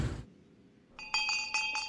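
A small bell rings out in a few bright, shimmering strikes after a brief moment of quiet, clear and close with a lingering metallic tone.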